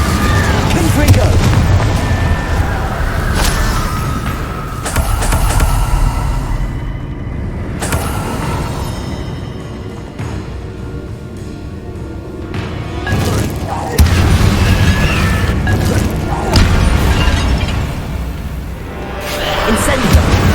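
Confringo fire spell blasts in Hogwarts Legacy, heavy booming bursts over a dense game soundscape, loud and close, with a few strong impacts spaced through the stretch and speech also present.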